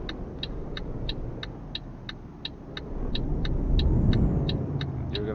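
Traffic vehicles in Euro Truck Simulator 2 rumble steadily behind, swelling louder toward the end, with a regular series of short ticking clicks like a turn signal running over the engine drone.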